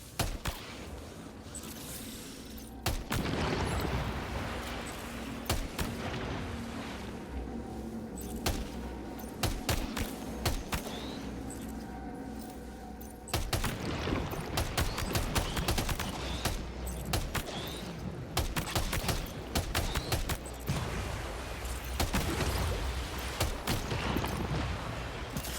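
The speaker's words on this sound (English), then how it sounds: "even the black ones cause the red ones to explode" In Death Stranding 2, black and red objects set each other off in chained explosions: rapid crackling bursts and heavy booms come in dense clusters, fading in between and then flaring up again.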